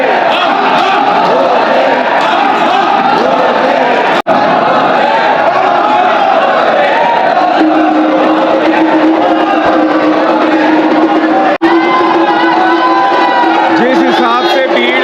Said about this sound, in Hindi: जिस हिसाब से भीड़ आई हुई है उस हिसाब से जल्दी जल्दी भीड़ को निपटाया भी जा रहा है यहाँ पे